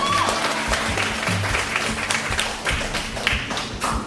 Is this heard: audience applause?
yes